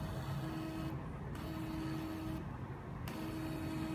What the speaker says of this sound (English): Now I could send the data by the application and the printer will receive it and print it.